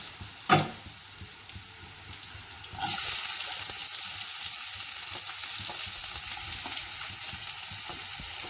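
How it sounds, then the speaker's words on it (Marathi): Onion goes into hot oil with crushed garlic for a tempering: after a single early clink, a sudden loud sizzle bursts up and then settles into a steady, even frying hiss that carries to the end. "आता या फोडणीमध्ये आपण कांदा घालणार आहे."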